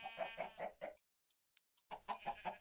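A chicken in the Minecraft video game clucks in a quick run of five or so clucks, then after a brief near-silence with small clicks another rapid clucking burst follows.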